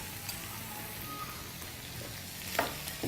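Masala and vegetables sautéing in a pan make a soft, continuous sizzle and crackle with a couple of light stirring clinks, fairly faint and without talk.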